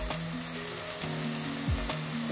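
Onions softening in a pan for homemade pasta give a steady, close sizzle with scraping stirs and a few knocks, no voices.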